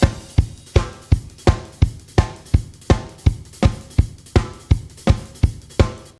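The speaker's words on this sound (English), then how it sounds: "So a 4 on the floor with some 16th note hi-hats" A dance drum pattern plays on its own, with a punchy four-on-the-floor kick landing at a steady tempo under rapid 16th-note hi-hats, loud and close.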